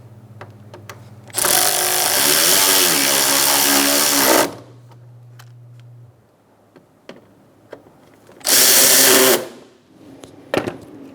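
A power tool whirs in two bursts, a longer one followed by a shorter one, tightening bolts on the active grille shutter of a 2012–2018 Ford Focus, with clicks and handling noises between the bursts.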